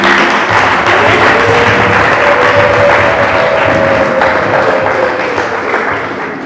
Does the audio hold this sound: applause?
yes